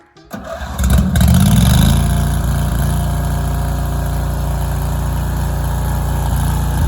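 A Cub Cadet 1641 lawn tractor engine cranks and catches, then settles into a loud, steady running drone that holds close and constant to the end.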